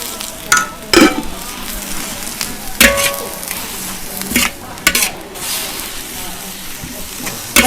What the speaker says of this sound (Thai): ผัดให้สุกค่ะ ผัดให้เขายุบตัว ยุบตัวเสร็จเราก็ใส่กระเทียม กระเทียมเจียวค่ะ